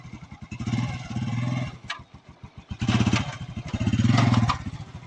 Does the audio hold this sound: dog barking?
no